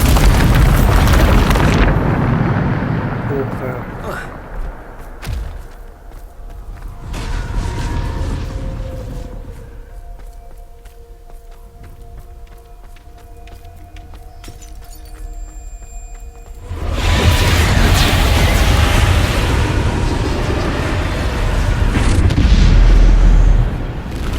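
In Hogwarts Legacy, a Bombarda blast spell goes off with a heavy booming explosion and shattering debris, loud bursts at the start and again from the middle onward, separated by a quieter stretch of rumbling and faint tones.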